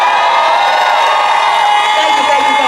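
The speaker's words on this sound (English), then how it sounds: "Give me a round of applause." A conference audience cheers and whoops continuously in a loud, dense crowd roar, with shouts rising over a steady wash of noise and little distinct clapping.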